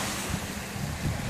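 Surf rolls onto the shore at Panama City Beach as a steady wash of waves, with gusty wind buffeting the microphone.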